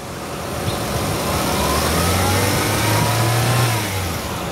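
A 2024 Chevrolet Captiva 1.5L turbo engine revs up, its pitch climbing and holding in a loud, sustained roar before easing back down, heard close with no talk.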